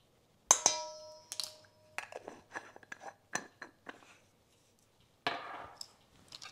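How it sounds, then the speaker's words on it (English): A dinner fork stirs organic all-purpose flour and salt in a bowl, making close, bright metallic clinks, taps and scrapes in uneven bursts with short pauses between, and no voices. "I'm just using a dinner fork to stir this around with"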